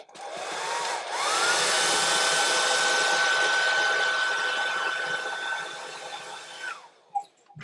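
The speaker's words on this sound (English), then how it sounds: "Hairdryer blowing down your ear." A hair dryer blows steadily and loudly for about six seconds, its motor whine holding a constant pitch, then winds down and cuts off, leaving a brief click near the end.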